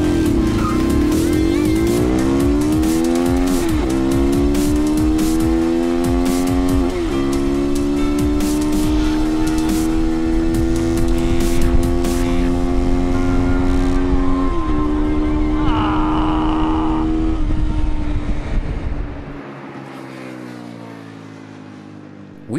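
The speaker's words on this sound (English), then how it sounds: "let me demonstrate with a drag race against a 2007 Toyota Prius" Zongshen RX3 Cyclone motorcycle in a drag race against a 2007 Toyota Prius, engine loud and close as it climbs through several gear changes with rising pitch, then fading away.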